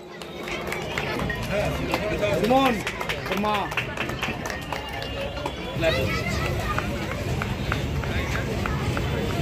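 An audience at the inauguration of a village festival in Shantinagar gives a steady burst of clapping mixed with crowd murmur, while a voice talks over it near the start.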